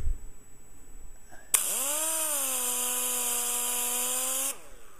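A Quick Cut wet sander color sanding a painted finish spins up sharply and holds a steady, loud whining hum with rising tones for about three seconds, then winds down to quiet.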